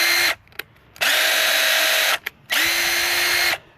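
A Craftsman C3 impact driver running unloaded in bursts: three loud, close whirring runs of about a second each, separated by short pauses and brief blips, with no speech.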